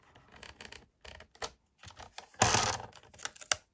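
A guillotine paper cutter slices through paper for a handmade interactive card, with a burst of crisp cutting noise after a few short clicks and rustles, and no one talking.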